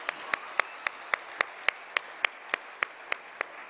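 Church congregation at a Sunday service clapping together for a child moving up from the children's department, about thirteen evenly spaced claps in a steady unison rhythm, sharp and moderately close, with no voices.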